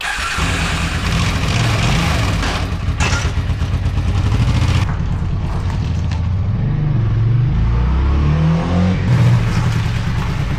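A 40-year-old Honda motorcycle out on a light test ride, its engine rumbling and revving continuously up close with rising and falling pitch as it accelerates, no voices.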